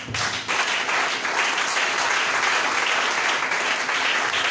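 A church congregation breaks into loud, sustained applause in praise of the Lord, dense clapping filling the room for several seconds with no break.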